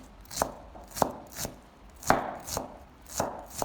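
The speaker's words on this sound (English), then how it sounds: "Take a piece of peeled ginger, slice it thinly, then cut into strips, and finally mince it finely." A knife finely minces peeled ginger on a cutting board, with crisp rhythmic chops in small clusters, close and fairly quiet, no talking.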